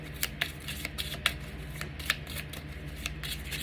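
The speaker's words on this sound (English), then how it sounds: "These cards shuffle so nice." A deck of tarot cards is shuffled by hand, giving quick crisp riffling flicks in an uneven rhythm, close and fairly quiet.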